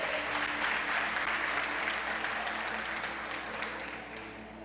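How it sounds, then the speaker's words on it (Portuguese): Congregation in a church service applauding together, a dense, steady wash of many hands clapping that holds evenly and eases slightly toward the end, with no voices standing out. "Você pode aplaudir a Ele nessa noite?"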